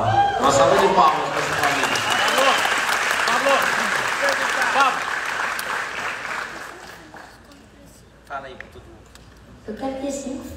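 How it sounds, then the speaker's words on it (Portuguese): An audience at a live event in Santa Catarina breaks into a loud, sustained round of applause that fades after about seven seconds, then a voice speaks over the quieter room. "Uma salva de palmas."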